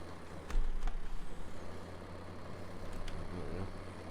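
A tractor in Farming Simulator 15 driving and turning a corner with a trailer, a low engine drone with a few clunks, faint and steady.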